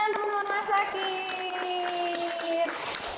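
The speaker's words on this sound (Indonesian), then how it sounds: "Tepuk tangan teman-teman masakin." Clapping at the close of a cooking show, a small group's scattered applause mixed with cheering voices and a sustained tonal sound, moderately loud and fairly close.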